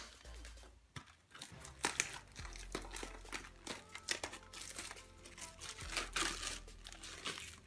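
Yu-Gi-Oh booster pack wrappers crinkling and tearing up close as packs are opened, with repeated bursts of crisp plastic rustling and crackling in irregular rhythm.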